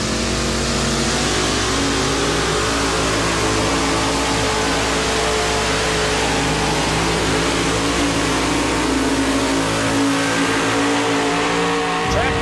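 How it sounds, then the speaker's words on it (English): A 1934 Ford two-wheel-drive pulling truck with an Aries engine revs hard and steadily, a loud sustained roar with shifting engine tones at a truck pulling event, easing briefly near the end. "Bud JASKE, the two-wheel drive Ford, Aries powered"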